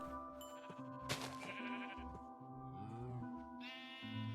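A sheep in the Minecraft video game bleats several times within a farm scene, the short wavering calls set against a steady game music bed with no talking.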